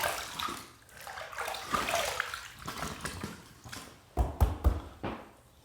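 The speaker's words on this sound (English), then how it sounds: "first pass done, let's rinse." Water splashes and runs as a Rockwell 6S adjustable safety razor is rinsed under a tap, with a few louder knocks and splashes near the end.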